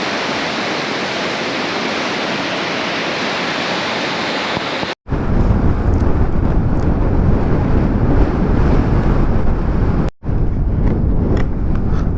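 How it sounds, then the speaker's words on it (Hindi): Strong wind roars across an open valley outdoors, a loud, continuous rushing buffet against the microphone that cuts out briefly twice. "देखिए कितनी तेज हवा चल रही है, कितनी तेज।"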